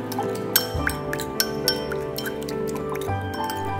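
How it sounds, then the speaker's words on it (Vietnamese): A spoon stirs a garlic chili fish sauce dip with meat in a bowl, giving a string of sharp, close clinks against the bowl over a soft background hum. "Khuấy cho thịt nhuyễn thôi nha."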